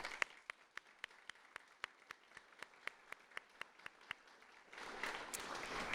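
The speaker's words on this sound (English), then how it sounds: "if we could just give another round of applause in appreciation of the family's support" Evenly spaced single claps ring out one by one in a quiet room at an awards ceremony, then broader audience applause swells in near the end.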